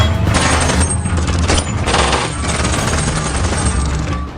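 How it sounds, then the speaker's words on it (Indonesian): A film gunfight between fugitives and police: dense, continuous gunfire rattles in rapid bursts with heavy booms, loud and sustained throughout. "sehingga terjadilah baku tembak"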